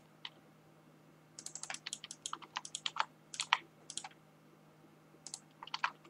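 Keyboard keys, the arrow keys among them, tapped in quick irregular bursts of light clicks, close and fairly quiet against a faint steady hum, with short pauses between clusters.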